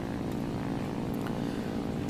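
A propeller aircraft engine in War Thunder drones continuously, steady and even, with no voices.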